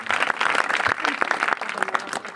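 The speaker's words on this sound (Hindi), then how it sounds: "वो बात जोरदार तालियों से प्रभु की महिमा करें।" Church congregation applauding vigorously to praise God after a testimony, a dense, loud wash of many hands clapping close by, steady throughout.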